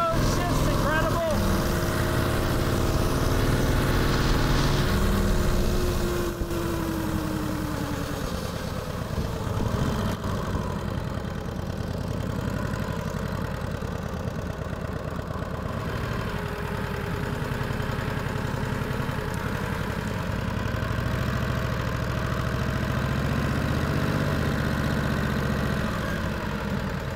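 A motorcycle engine with a 4-speed transmission runs steadily at a low, even idle throughout, loud and close, with a voice talking over it now and then.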